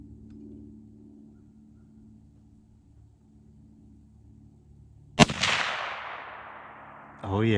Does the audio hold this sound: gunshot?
yes